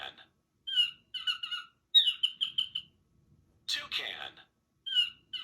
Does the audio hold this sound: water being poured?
no